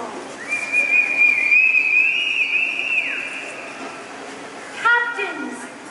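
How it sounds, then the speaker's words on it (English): A long, clear whistled tone sliding slightly upward, then a short pause and a quick burst of rising and falling whistled notes, heard close, at Disneyland's Haunted Mansion. "let out a whistle to answer our call"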